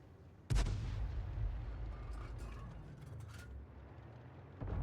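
A tank cannon fires in a war video game, one sharp heavy boom at the start rolling into a long rumbling tail, then a second blast begins just before the end.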